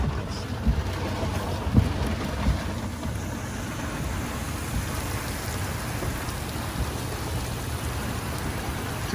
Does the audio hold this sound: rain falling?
yes